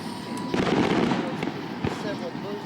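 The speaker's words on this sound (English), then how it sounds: "They're having fireworks." Fireworks go off over Lake Wylie, a dense crackling rumble of bursts with a few sharper pops, heard at a distance under people's voices.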